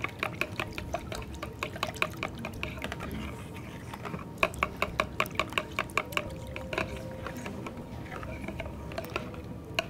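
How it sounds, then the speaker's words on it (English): A whisk beats a breakfast casserole mixture with spinach in a bowl, giving steady rapid clinks and scrapes of metal against the bowl throughout, fairly quiet and close, with no talking. "I'm whisking this together."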